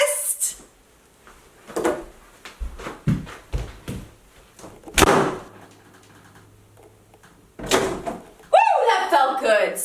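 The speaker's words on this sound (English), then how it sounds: "Do slam doors." Doors are slammed indoors, several sharp loud thuds spaced irregularly among bursts of talking and laughter.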